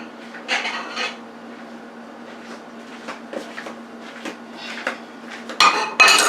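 Metal pot lid set onto a pot of simmering Italian meat sauce with sausage, a few light clanks and rattles over a low steady kitchen hum, with a louder metallic clatter near the end.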